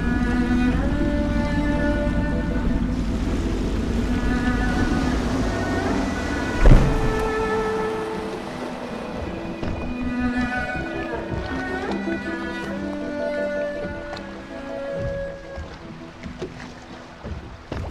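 A boat is piloted through water in the video game Dishonored, a low steady engine rumble and water wash running throughout beneath tonal game music, with a single thump partway through.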